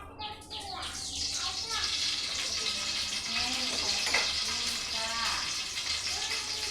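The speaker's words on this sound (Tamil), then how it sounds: "இப்போ எண்ணெய் ஊற்றுறேன்." Oil poured into a hot pan on a home stove hisses and sizzles steadily at close range while someone talks over it, ahead of cooking homemade noodles.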